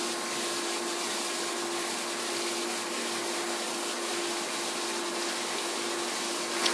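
A CNC mill making a fine finish pass with a 20mm cutter, slowly taking a light cut on the FX-4WD top arm, gives a steady broadband hiss with a faint constant whine, alone and unbroken.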